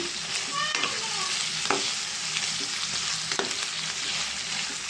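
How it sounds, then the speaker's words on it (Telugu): Chicken being stirred with chili powder and chicken masala in a hot pan, a broad steady sizzle with occasional spoon scrapes and clinks, close and continuous. "ఇది కూడా బాగా చికెన్కి మిశ్రమానికి అంతా పట్టే వరకు మనం కలుపుతున్నామండి"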